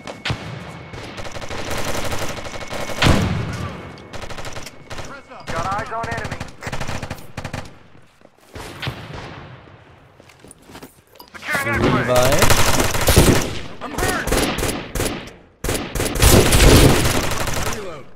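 Sniper rifle and other gunfire in the video game America's Army: Proving Grounds, loud repeated shots and bursts in clusters with gaps between, under game sound and talk.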